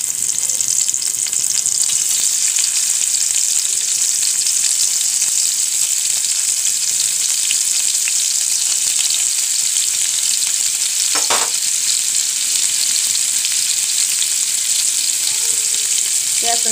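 Paneer frying in ghee over a low gas flame gives a steady, dense sizzle that runs unbroken from start to finish, with one brief louder crackle or scrape near the middle and no talking.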